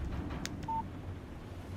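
A mobile phone's short electronic text message alert in the video game Alan Wake Remastered, a brief tonal chirp heard once, with faint clicks before it over a low ambient hum.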